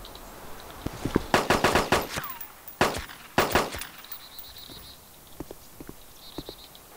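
AK rifle fire in the video game DayZ, several loud close bursts of rapid automatic shots followed by a few scattered quieter single pops, with no talking.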